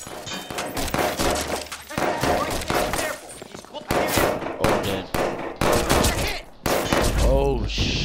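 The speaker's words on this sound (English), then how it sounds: "Tell me those weren't gunshots" Gunshots in the Watch Dogs 2 video game, loud bursts of rapid fire in several clusters with short breaks between them, mixed with game noise and heard alongside talking.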